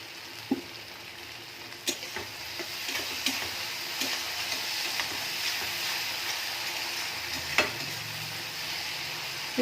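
Onions frying in oil in a pan, a steady crackling sizzle with occasional sharp ticks and clinks of stirring, close and moderately loud, no talking.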